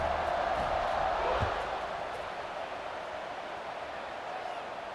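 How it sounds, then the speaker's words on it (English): In the EA Sports College Football 26 video game, a stadium crowd buzzes after a touchdown, a broad, steady murmur of many voices that rises briefly and then settles into a softer, continuous hum. "this crowd is buzzing after that last score"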